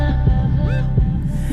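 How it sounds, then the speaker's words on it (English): A heartbeat sound effect in a song, heard as low, deep, thumping pulses spaced evenly under a sustained musical hum, loud and close with no voices. "it just strips away the beat, and it goes down to kind of a heartbeat sound"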